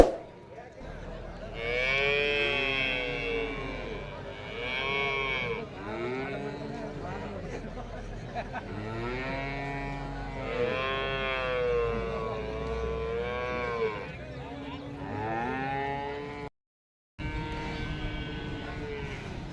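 HF heifers and other cattle moo repeatedly at the Seenapuram cattle market in Erode district, loud and close, with long drawn-out calls overlapping one another against a busy crowd background.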